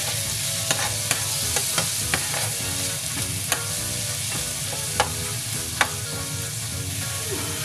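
A spoon stirs diced tomatoes into chicken macaroni sautéing in a pan with dried oregano, giving a steady close sizzle with scraping strokes and occasional sharp clinks of utensil against metal.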